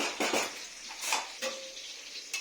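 Potatoes frying in a pan on a home stove, with soft sizzling broken by clinks of a utensil against the pan and short stirring scrapes, fairly quiet and close.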